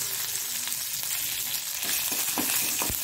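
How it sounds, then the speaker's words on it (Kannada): Green chili, red chili and curry leaves fry in oil with a dense, continuous sizzle, sharper crackles and stirring taps picking up toward the end. "ಗ್ರೀನ್ ಚಿಲ್ಲಿ, ರೆಡ್ ಚಿಲ್ಲಿ ಹಾಗೂ ಕರಿಬೇವಿನ ಸೊಪ್ಪು ಇದರಲ್ಲಿ ಒಳ್ಳೆ ಫ್ರೈ ಆಗಬೇಕು."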